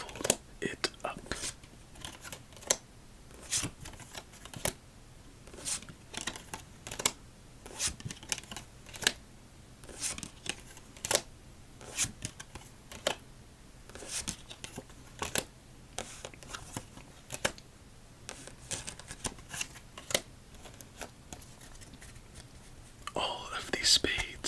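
Dense, rapid riffling of playing cards in repeated bursts, close and crisp, with soft rustling between shuffles and no voices.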